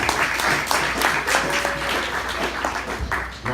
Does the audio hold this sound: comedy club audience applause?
yes